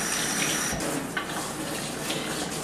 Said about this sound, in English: So it's just best to use the handheld thing here to get them all wetted down.